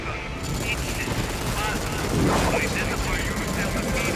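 Sustained machine gun fire in the shooter game Dark Sector, a dense continuous rattle of gunfire with some background game noise and speech-like sounds mixed in, steady throughout and swelling slightly midway.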